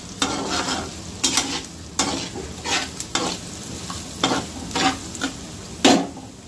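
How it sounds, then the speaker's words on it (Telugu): Onions frying with rock salt in a pan for chicken curry, a steady low sizzle broken by several sharp bursts of stirring and scraping at irregular intervals, close and clear with no talk. "ఉల్లిపాయలు వేగిపోయాయండి,"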